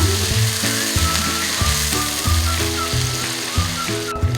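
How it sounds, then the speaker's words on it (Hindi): Onion paste sizzles in a pan while being stirred, a constant close frying hiss broken by regular scraping strokes of the spoon, alone without voices. "मैं इसमें ये प्याज़ों का पेस्ट डाल दूँगी। इसको साथ साथ चलाते रहना है"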